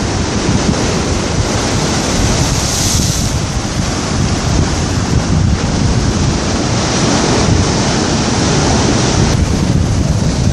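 Sea waves surge and splash against a tetrapod on the south jetty of Port Ouest, Réunion, at dusk, a loud continuous roaring wash mixed with wind buffeting the microphone, with no talk.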